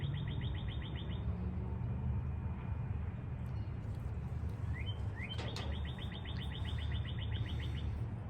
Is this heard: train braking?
no